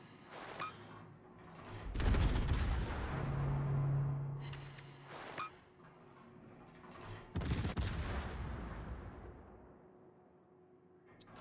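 Warship guns fire in World of Warships, with two heavy, booming salvos that each roll off into a long rumbling decay, separated by quieter stretches of background battle noise.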